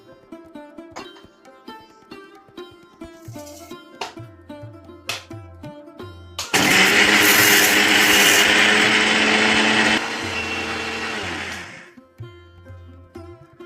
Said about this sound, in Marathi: आता हे मिश्रण आपण मिक्सरच्या भांड्यामध्ये काढून घेऊन वाटूया